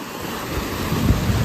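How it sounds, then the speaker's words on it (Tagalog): Ocean waves surge and crash onto a beach in Taiwan, a steady roaring wash of surf with wind buffeting the microphone and a louder swell breaking near the end. "Lakas ng alon, no?"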